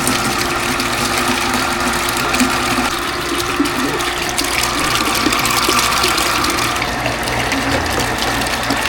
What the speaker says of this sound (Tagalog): Ayan po, tuloy-tuloy lang po yung agos ng tubig.